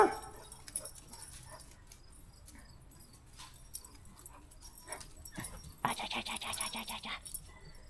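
A pet dog pants close by in quick, rhythmic breaths that grow louder near the end, after a stretch of faint background rustle.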